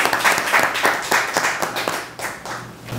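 Clapping from an audience at a Korean community association meeting reviewing a sports festival, with distinct hand claps in an uneven rhythm swelling and easing over a few seconds, close and fairly loud, with no voices.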